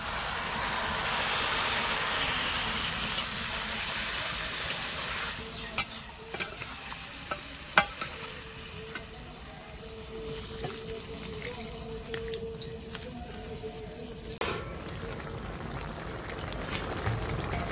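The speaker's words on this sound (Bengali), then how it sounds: "তো চলো এবার আমি জলটা দিয়ে দিচ্ছি।" Water is poured into a pan of sizzling jackfruit and prawn curry, causing a loud rushing hiss that settles into a quieter simmer broken by scattered clinks and scrapes of stirring.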